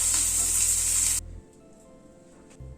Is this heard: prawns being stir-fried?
yes